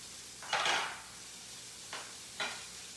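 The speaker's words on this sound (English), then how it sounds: "that sizzle is what we're going to go for here" Salmon being seared in a hot pan gives a few quiet bursts of sizzling and stirring, one longer hiss followed by two short ones amid near silence.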